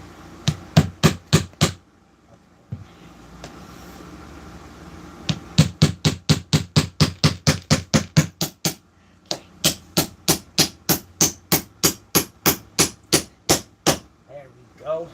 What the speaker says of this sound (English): That's how hard it should be to hammer the nail in.